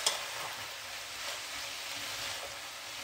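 Chicken and vegetable spring roll filling sizzling steadily in a frying pan, a constant close crackle and hiss with a faint clink of stirring at the start and no voices.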